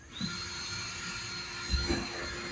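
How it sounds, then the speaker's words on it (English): A steady high-pitched whine of a Ryobi cordless drill boring holes through a plastic trash can, running continuously, with a couple of brief low thumps partway through. "Got my Ryobi drill here."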